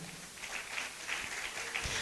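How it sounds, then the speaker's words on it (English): A crowd at a university white coat ceremony for a pharmacy school applauds, a soft, steady patter of many hands heard from a distance for a couple of seconds. "Let's applaud them."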